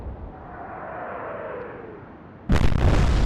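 Warship main guns fire in the Atlantic Fleet naval video game, a single loud, sudden booming salvo that bursts in near the end after a stretch of low rumbling ambience.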